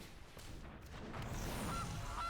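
The Gilded Goose card in MTG Arena gives a short goose honk, a couple of brief nasal calls over a swelling magical whoosh of game effects, fairly quiet and with no talk.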